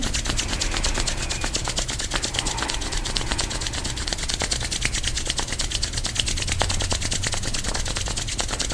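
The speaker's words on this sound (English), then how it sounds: "bringing the palms to touch and rubbing them together" Palms rubbing briskly together during a third eye chakra practice, a steady dry swishing friction that runs continuously and close, with no talking over it.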